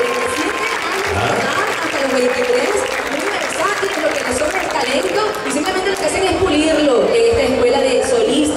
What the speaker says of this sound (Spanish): ¿Dónde están los aplausos?